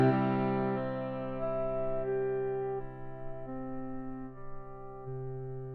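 A piano holds a sustained chord while its notes are picked out one by one in an exaggerated arpeggio, tones shifting up and down over a ringing bed of sound, fairly quiet and without speech.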